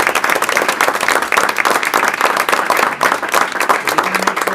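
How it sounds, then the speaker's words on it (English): An audience at a high school board meeting gives a steady, full round of applause, dense clapping from many hands sustained evenly throughout, with faint voices mixed in. "How about a round of applause for all of them?"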